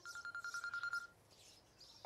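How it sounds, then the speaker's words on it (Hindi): A telephone rings in a quiet home setting, a rapid burst of electronic trills for about a second, then a softer ringing tone, moderately faint with no talk. "जरा देख किसका फोन आया, जाके देख"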